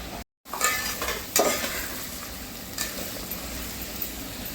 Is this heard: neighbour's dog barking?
no